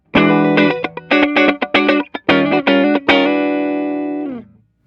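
A clean electric guitar played through a Mesa Boogie Lone Star amp gives a quick run of bright, punchy chords and notes, then one sustained chord rings out and fades.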